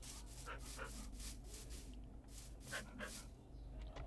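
A Minecraft wolf makes repeated short barks and whimpers in a video game, faint and spaced out in a quick irregular rhythm over a low steady background hum.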